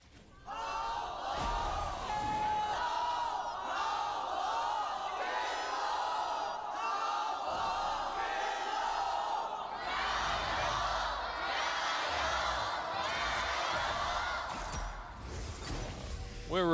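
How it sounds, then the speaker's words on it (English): Canned crowd noise roars through a League of Legends LPL Summer 2020 grand finals esports match between JD Gaming and Top Esports, a dense sustained cheer with whoops and shouts lasting throughout, steady and loud. "Our canned crowd is going ballistic for our two teams here"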